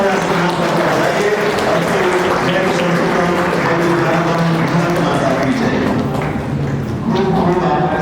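An audience applauds at a pre-school graduation ceremony for the Om Sai Play Group, a steady wash of clapping that fills the whole stretch under a voice and harmonic background sound.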